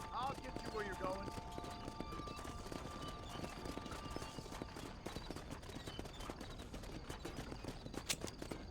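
Steady clip-clop of horse-drawn coach hooves on a hard road in the video game Red Dead Redemption, repeating evenly with a whinny near the start and a voice talking over the rhythm.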